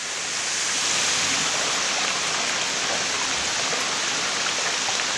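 Creek flowing below a waterfall toward the Vermilion River, a dense, continuous hissing rush of water at steady volume, close and without any voices.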